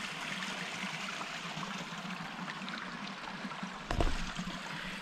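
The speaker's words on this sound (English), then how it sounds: "There's Index Creek." Index Creek runs along a backcountry trail between Lake Augusta and Lake Mary, a steady broadband rush of flowing water throughout, with a brief louder splash or thump near the end.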